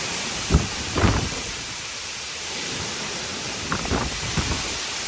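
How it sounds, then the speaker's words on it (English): Strong hurricane wind gusts roar over steady rushing noise outdoors, with a few brief heavier buffets standing out from the constant loud blowing. "That's a strong gust."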